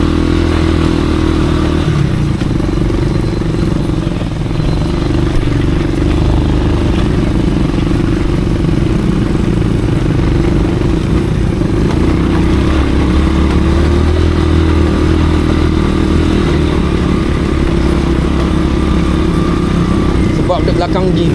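An off-road motorcycle revs steadily as it climbs a hill, its engine droning loud and close without letup for the whole stretch, with rough clatter mixed in and voices talking over it.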